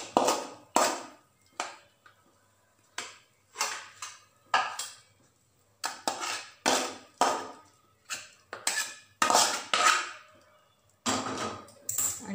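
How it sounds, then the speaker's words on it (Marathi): A thickened peanut chikki mixture is scraped from a pan onto a ghee-greased plate, giving a string of sharp metallic scrapes and knocks in an uneven rhythm, close and fairly loud with quiet gaps between. "आता ह्या तूप लावलेल्या प्लेटमध्ये आपण हा गोळा काढून घ्यायचा आहे"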